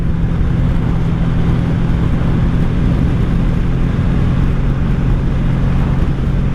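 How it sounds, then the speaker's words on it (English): Strong wind roaring over a 1984 Honda V65 Sabre VF1100S motorcycle on the road, a loud, dense, unbroken rush of buffeting air blended with the steady low drone of the engine, with no voices. "The wind just kicked my bike to the right."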